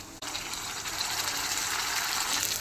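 Water used to rinse spice paste pours steadily into a pan during a country chicken curry, a continuous close gushing splash lasting a few seconds, with no talk.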